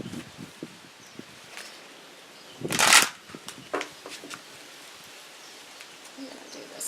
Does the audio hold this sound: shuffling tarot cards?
yes